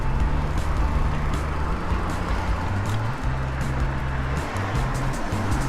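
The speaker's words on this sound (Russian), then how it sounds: "А впереди целых две почтовых машины." Dense New York street traffic with USPS postal trucks ahead, a continuous loud engine drone and road rumble, low motor tones shifting as vehicles move, with no voices.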